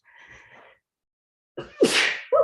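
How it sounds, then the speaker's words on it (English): A single loud, sharp sneeze bursts out after a brief quiet, preceded by a soft breathy sound and followed by a short vocal noise. "here comes the sneeze"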